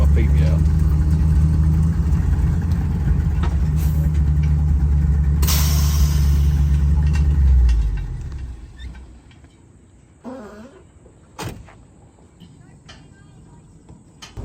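A log truck's engine idles and pulls forward at a mill with a loud, close, steady rumble that cuts off partway through, leaving quieter background noise and a few knocks.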